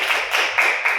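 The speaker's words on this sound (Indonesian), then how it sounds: "tepuk tangan untuk yang dulu" Group applause in a classroom counselling session, many hands clapping in a dense, steady patter that swells in waves, fairly close and alone without talk.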